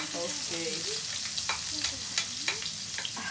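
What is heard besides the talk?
garlic and onions frying in a pan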